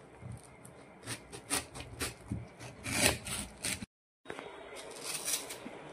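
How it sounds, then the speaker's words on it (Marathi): A knife cutting raw mango into very small pieces, producing a quick series of close, scraping chops with brief pauses and one short silent gap. "आता कैरी कापते। कैरीचे सुद्धा खूप बारीक बारीक तुकडे करायचे।"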